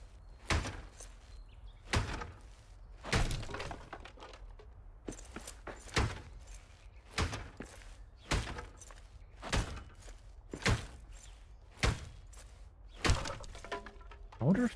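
Repeated heavy whacks strike a pipe in Return to Moria, about a dozen sharp thuds at a steady, slightly uneven rhythm, with faint background sounds between the blows.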